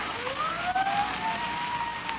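Police sirens approach in an old-time radio drama sound effect. Wailing tones rise and fall steadily at moderate loudness, and the sound is thin and band-limited, like an old broadcast.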